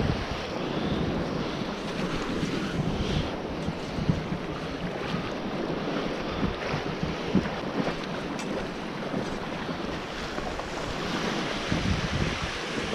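Barents Sea waves wash into a rocky shore pocket, a continuous churning surge of water with gusty wind noise on the microphone and no voices.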